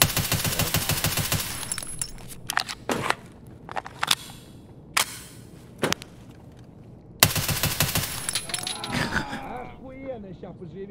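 Rapid gunfire in a shooter video game, with bursts of automatic shots, scattered single cracks and ricochet-like pings, loud and close, separated by brief quieter gaps.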